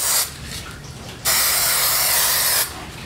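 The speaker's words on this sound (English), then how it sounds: "sometimes it helps to put on a little spray glue" Spray glue misted onto a stencil during a bathroom cabinet makeover, two bursts of bright aerosol hiss, a short one at the start and a longer sustained one in the middle, close and loud against a quiet room.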